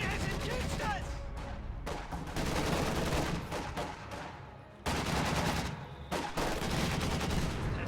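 A DShK heavy machine gun fires bursts in a wartime strategy game, rapid loud rattling volleys broken by short pauses amid other battle gunfire, with a commentator's voice over the din.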